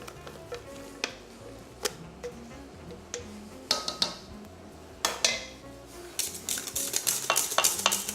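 Chocolate mousse being gently mixed in a bowl, heard as a string of soft clicks and scrapes of a utensil against the bowl, sparse at first and then quicker and busier toward the end, with no talking.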